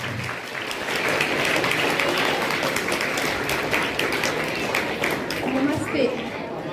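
Children applaud a student at a school event, a dense, lively burst of many small hands clapping that continues for several seconds in a busy room, with faint crowd chatter mixed in.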